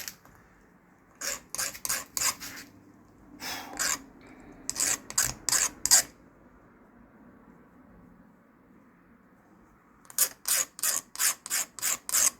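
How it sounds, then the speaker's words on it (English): A hand file deburrs a small metal truss rod piece for a custom Strat guitar, making close, loud rasping strokes in quick rhythmic runs of four to seven, separated by quiet pauses. "Just deburr this piece quickly."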